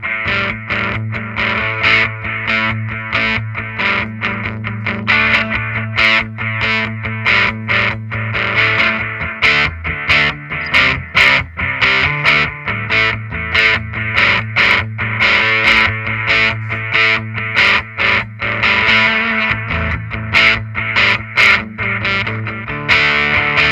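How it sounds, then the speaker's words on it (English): An electric guitar plays a driven, chord-based riff through a transparent overdrive and a Donner Yellow Fall delay pedal, loud and close, with rhythmic strummed attacks and lightly repeating echoes trailing each phrase. "This is a transparent overdrive."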